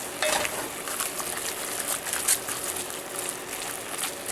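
Ground beef and onions sizzling in a hot pan for a yogurt noodle dish, a steady, close hiss of frying fat with occasional light clinks of a utensil.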